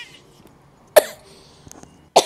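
Two sharp, close coughs, about a second apart, with near silence between them.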